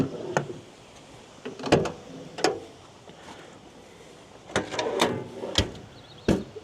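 A pull-out table drawer in an American truck is slid and handled, making a series of sharp clacks and knocks spread unevenly over several seconds, each brief and distinct against a soft background.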